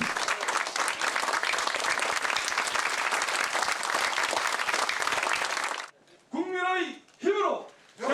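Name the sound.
audience applause at a political party meeting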